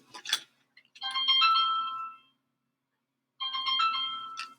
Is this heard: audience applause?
no